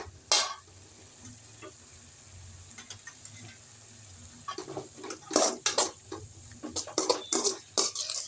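Drumstick leaves sautéing in a pan with salt and a little water, stirred in bursts: scraping, clattering strokes and soft sizzling come in clusters, sparse at first and then denser and louder toward the end, with no talking.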